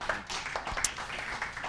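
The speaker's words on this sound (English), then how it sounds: "Let's give him a round of applause." An audience claps at a commercial real estate talk, a short burst of scattered hand claps at moderate volume that holds steady through the moment.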